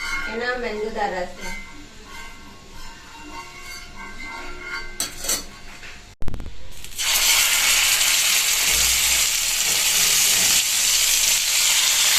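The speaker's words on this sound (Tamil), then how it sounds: "வந்து ஃப்ரை பண்ணுறோம்" Sardines sizzle loudly in hot cold-pressed groundnut oil, a dense steady frying hiss that bursts in midway and holds to the end, following a stretch of talk with faint background clatter.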